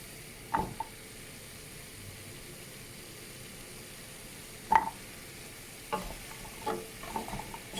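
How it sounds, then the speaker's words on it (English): Spices and vegetables fry in a pan with a soft steady sizzle, broken by a few sharp spoon knocks and scraping stirs spread across the stretch, fairly quiet and close with no talking. "And a quick stir just to make sure you're not drying out on the spices and they're going to burn."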